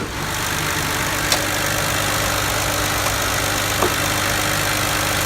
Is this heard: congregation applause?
no